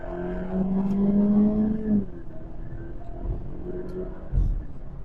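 A new car's exhaust rises in a high-pitched whining drone as it accelerates on a slip road, heard from inside, the tone climbing then dropping off and settling into a lower rumble.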